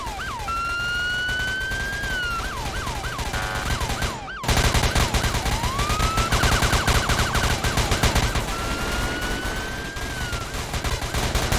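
In the Roblox game ERLC, rapid gunfire pelts a Bearcat armored vehicle while a police siren wails and yelps on top, the shots dense and continuous, loud and close, with no talking.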